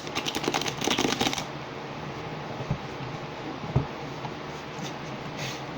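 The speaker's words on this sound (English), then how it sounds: "I'm gonna shuffle these." Tarot cards shuffled close by, a quick flurry of riffling clicks over the first second or so, then only faint handling noises against a quiet room background.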